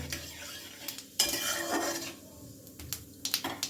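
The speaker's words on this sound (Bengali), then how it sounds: "তেলের মধ্যে আমি দিয়ে দিলাম এক চামচ গোটা জিরে ফোড়নটা একটুখানি নেড়ে নেব" Whole cumin seeds stirred with a spoon in hot mustard oil in a metal pan, giving a scraping clatter of utensil on metal with bursts of sizzle, close up and uneven, with quiet pauses between strokes.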